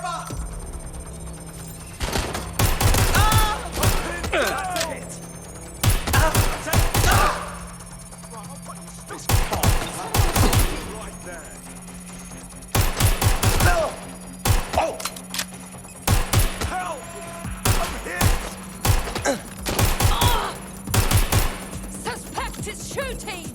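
Bursts of gunfire in the video game Watch Dogs Legion on PS4, repeated volleys of rapid shots in clusters across the scene, loud and close, with voices calling out between them.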